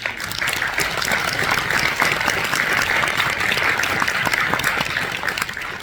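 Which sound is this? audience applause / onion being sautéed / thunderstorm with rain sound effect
audience applause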